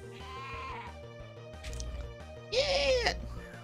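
Sheep bleating in a few distinct calls, a quavering bleat early on and a louder, longer one near the end, set against steady background music with no talk.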